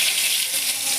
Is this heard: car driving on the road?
no